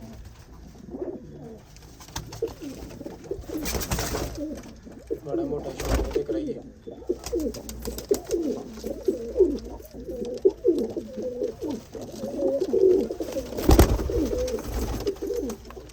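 Young Ferozpuri champion racing pigeons and golden pigeons in a loft cooing in soft repeated throaty bursts throughout, fairly close, mixed with rustling and someone talking at intervals.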